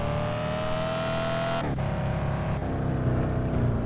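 A cheap fake BMW in Car Sale Simulator 2023 being driven indoors, its engine droning steadily then shifting pitch with a gear change and a rising rev, close and loud with no talk.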